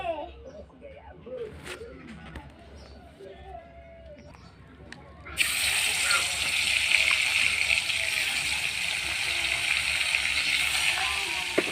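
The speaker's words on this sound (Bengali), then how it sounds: "মশলাটা কষাই নিতেছি, আদা রসুন বাটা, পেঁয়াজ বাটা" A spice paste of ground ginger, garlic and onion with salt and turmeric drops into a hot pan and starts a loud, steady sizzle partway through, after a quieter stretch of kitchen sounds and a voice speaking.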